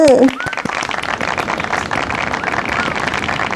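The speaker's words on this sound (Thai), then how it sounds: "ปรบมือ" Hand clapping in a Thai home-cooking show intro: a dense run of quick, sharp claps that keeps up steadily for several seconds after a brief voice at the very start.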